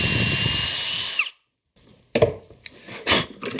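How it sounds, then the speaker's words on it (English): A power drill boring a hole through a DowelMax dowel jig into a wooden workpiece, a loud sustained whine that stops abruptly, followed by a pause and then scraping and clattering handling sounds. "and drill in the middle."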